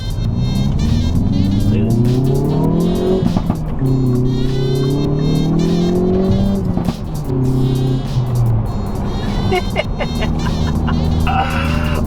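A Hyundai i30N in N mode accelerates hard onto a freeway, its engine note climbing loudly and steadily through the revs, heard close from inside the car.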